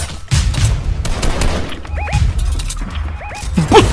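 Sharp Fortnite gunshots and impacts ring out close by in short bursts, with several loud cracks spread across a few seconds amid other game noises.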